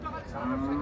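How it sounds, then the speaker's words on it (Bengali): A Sahiwal breed bull at a cattle market gives a short, low, droning moo close by, rising slightly in pitch, with faint background noise. "এটাও চমৎকার একটা ষাঁড় গরু, সাইওয়াল জাতের ষাঁড়।"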